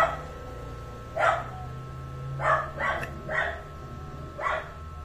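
A dog barks several times, five separate barks spaced unevenly at moderate distance, over a steady low hum with no talking.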